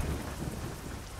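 Heavy rain and rumbling thunder from the Euro Truck Simulator 2 video game while driving a Ford F-Max truck form a dense, steady, faint wash of noise with no talk.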